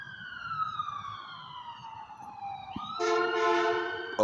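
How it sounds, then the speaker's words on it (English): An ambulance siren wails nearby, its tone sliding steadily lower as it passes, then switching abruptly to a louder, faster yelp pattern toward the end, heard over traffic noise. "Oh, it's an ambulance."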